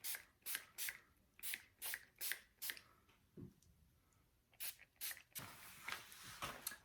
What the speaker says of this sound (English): So I'm going to spray on to the blade,